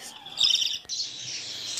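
Pet budgerigars chirp and twitter close by, a bright warbling run of high calls with one sharp click in the middle and no talking.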